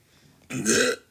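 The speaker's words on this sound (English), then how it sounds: "Excuse me, sorry, I belched." A single loud belch, sudden and close, lasting about half a second and standing alone without any talk over it.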